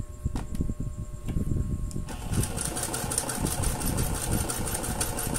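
A portable sewing machine runs a twin needle through stretchy fabric, its motor whirring in a steady, rapid stitching rhythm that starts softly and becomes louder and continuous after about two seconds, close and alone.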